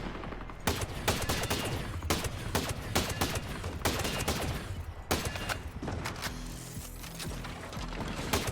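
Rapid LMG gunfire in Ghost Recon Breakpoint, loud repeated bursts of shots cracking in sharp clusters across the whole stretch, with brief pauses between volleys and mechanical clatter underneath.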